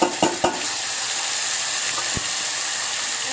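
Tomato gravy goes into a pan of frying garlic and asafoetida for tomato chutney, with a few quick clunks as it is added and then a loud, steady sizzle and hiss close by.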